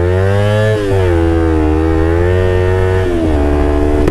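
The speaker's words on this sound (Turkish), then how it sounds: "Böyle egzoz sesiyle" A motorcycle engine idles and revs, its loud exhaust droning with two brief throttle blips, close and continuous.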